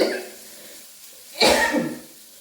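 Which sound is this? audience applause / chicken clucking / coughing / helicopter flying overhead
coughing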